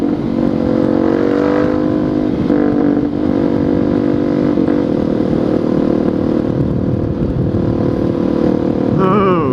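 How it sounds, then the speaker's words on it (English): A 2013 Suzuki DR-Z400SM motorcycle exhaust drones loudly and steadily while riding, a close continuous engine roar with slight rises and dips in revs throughout, no talking. "Nor am I used to this awesome sound coming from my exhaust."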